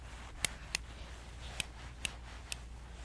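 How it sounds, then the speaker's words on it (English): Scissors snip hair during a haircut in a salon setting, giving five sharp, quiet clicks spread irregularly across a soft, steady background hiss. "sometimes my clients get a little bit scared when they hear the scissors a lot"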